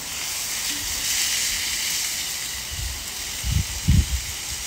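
Food sears on an open-lid grill, giving a continuous bright hiss with a few soft low knocks near the end.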